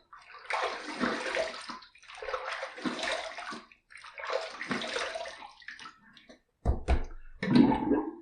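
Running water rinses a face after shaving with a K2 twin handle razor, in three steady splashing bursts followed by a few sharp taps and a last gurgling splash, close and fairly loud.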